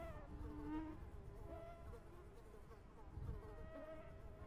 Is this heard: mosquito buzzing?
yes